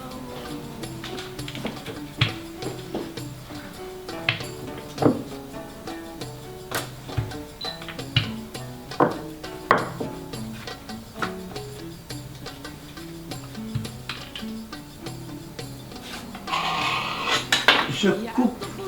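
Pastry dough for fazuelos being flattened with a rolling pin on a kitchen surface: a steady series of close, light knocks and clatters against the board, continuing over a tonal background.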